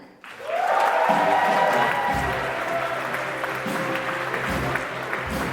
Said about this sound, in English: Please give a round of applause for our publicity team and the Pops director, Clement.